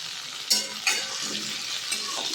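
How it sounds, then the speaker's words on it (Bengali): Potatoes frying in a pan with a steady soft sizzle, a few sharp scrapes and knocks from stirring at moderate volume, no talk. "এবার আলুগুলো একটু ভেজে নেব।"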